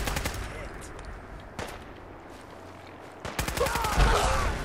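Rapid automatic gunfire in the Fallout 4 video game, with fast bursts of shots separated by a brief lull, then a heavier, louder burst near the end of the firefight.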